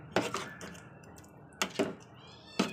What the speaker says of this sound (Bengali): এবার আমি এটা ভাতের সঙ্গে ভালো করে মিশিয়ে দেবো মানে খিচুড়ির সঙ্গে